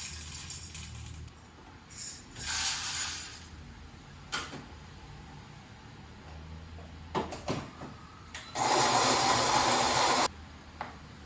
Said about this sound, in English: so you produce a nice medium fine grind, I'd say, with this setting